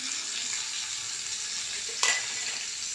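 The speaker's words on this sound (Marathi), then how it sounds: "खारातली मिरची बरोबर हे चणे फोडणीला घालायचे" Salted dried chilies and chickpeas hitting hot oil in a mustard seed tempering give off a steady hissing sizzle with a brief louder crackle midway, with no talking.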